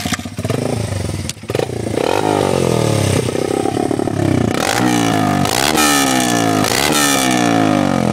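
A Honda XR400 motorcycle engine idles loudly up close and then revs repeatedly, its pitch sweeping up and falling back several times in quick succession, with no voices over it.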